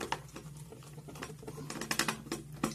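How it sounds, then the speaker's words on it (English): Small screws on a 1957 Chevy Corvette model being worked loose with a screwdriver, giving close, soft scratchy clicks and squeaks in an irregular patter with no talking. "I'm going to unscrew this sucker"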